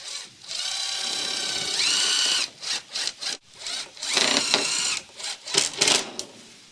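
Cordless power drill driving 1 1/4-inch screws into a wooden roof deck on a chicken coop composter, with a sustained whine at first, then a series of short bursts of drilling and screwing stopping and starting.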